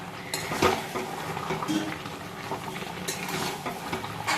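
A spatula stirs sweet-sour-spicy elephant apple (chalta) pickle mixed with ground spices in a pan, producing close metallic scrapes and clinks in an irregular rhythm over a soft simmer.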